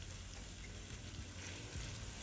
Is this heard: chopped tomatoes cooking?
yes